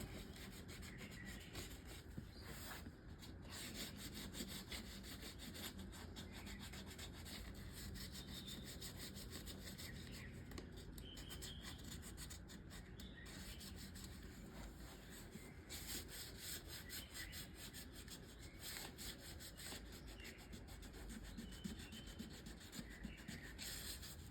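Quiet, continuous rubbing and scraping of sandpaper scuffing a leather surface, back-and-forth strokes in a steady rhythm.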